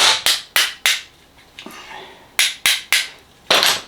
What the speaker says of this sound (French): Petit coup de marteau en caoutchouc.